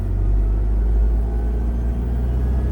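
A car engine in low gear, pulling at a slow 5 to 10 speed with a light press of the accelerator, gives a steady close rumble throughout with no talk over it.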